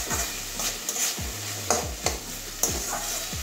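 Banana stem frying with salt is stirred in a pan: a spatula scrapes and clinks in quick strokes over a soft, steady sizzle.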